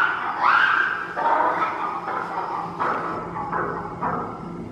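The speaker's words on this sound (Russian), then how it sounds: "Вот они как кричат, как собачки кричат, как собачки," Lemurs give repeated short, dog-like barking calls, a series of sharp yelping cries at steady intervals, fairly close amid faint background noise.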